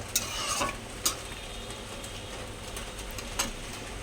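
Fish curry gravy simmers in a pan with a soft, steady bubbling hiss, close and quiet, broken by a few sharp clinks of a utensil against the pan.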